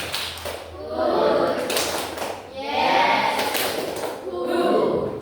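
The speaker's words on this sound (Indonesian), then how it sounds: "Tepuk 3, 2, 1." A classroom of students claps a rhythmic three-two-one pattern in quick group bursts, mixed with murmuring voices and chatter from the room.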